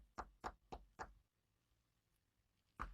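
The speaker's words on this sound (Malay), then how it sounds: "Tiba-tiba dengar orang ketuk pintu." Four quick, sharp knocks on a door in an even rhythm, then a pause of quiet room tone and one more single knock, close and fairly loud against a hushed background.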